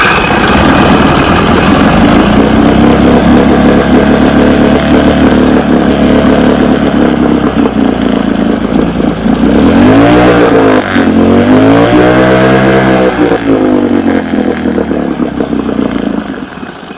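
A 9.5 HP Evinrude outboard test motor runs loudly and steadily after a choked start, its engine note rising and falling through revs midway with wavering harmonics before settling back, with no talking.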